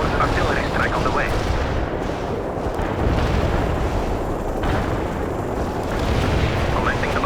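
Artillery barrage in the World in Conflict video game, heard as a dense, continuous roar of heavy explosions and rumbling booms that swells and fades. Radio voices speak over the blasts.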